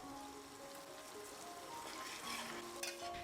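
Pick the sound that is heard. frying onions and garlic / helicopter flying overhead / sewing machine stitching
frying onions and garlic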